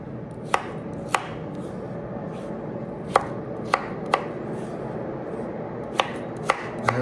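A knife chops through ingredients for a chicken tortilla soup, cutting bite-sized pieces with sharp, close board strikes in an irregular rhythm, about nine cuts over a low room hum.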